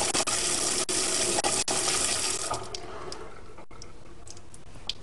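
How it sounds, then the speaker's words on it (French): Water runs steadily through a CARTIS fountain during a rinse, a loud continuous rushing stream with faint ticking clicks that eases slightly toward the end. "Donc idéalement, laissez couler l'eau pendant 3-4 minutes"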